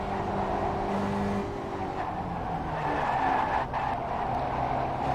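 A Spec Racer Ford in an iRacing sim race at Mount Panorama revs hard through a corner under throttle and braking, with the engine pitch shifting and tyres squealing and skidding throughout, loud and continuous.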